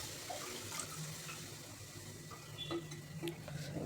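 Water is poured into a simmering vegetable curry for a sattvic, onion- and garlic-free festive meal. It sounds like a steady, watery rush with faint splashes and light bubbling, and no one talks.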